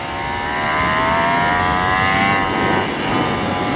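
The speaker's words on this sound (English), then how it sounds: "the Ducati V4R on the track" Ducati Panigale V4R sportbike on a race track, its tall-geared engine held at a steady high-pitched drone with rising harmonics, loud and continuous with no talk.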